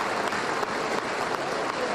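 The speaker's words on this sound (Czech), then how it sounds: "Tleskalo se na pohřbu, to jsem jaksi nezažil." Members of the Czechoslovak parliament applaud after the vote dissolving the federation, a steady, dense round of clapping that continues evenly without voices.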